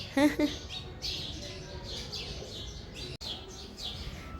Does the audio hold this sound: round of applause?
no